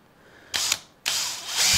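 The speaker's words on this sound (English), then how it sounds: "Gonna drill all the way along this one." A power drill whirs through wood in two bursts on a semi-hollow guitar body, a short one and then a longer, steadier run, close by with no talking.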